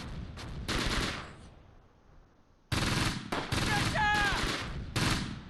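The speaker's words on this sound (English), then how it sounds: "we got machine gun fire coming from the tracks" Machine gun fire rattles in the Close Combat World War II strategy game, with long loud bursts separated by a brief lull, plus a whistling shell sound in the mix.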